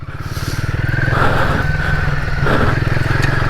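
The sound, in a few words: Royal Enfield Himalayan 450 motorcycle riding on trail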